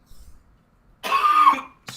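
A person coughs once, a harsh, close burst of about half a second after near silence, followed by the start of another short cough, with no talking.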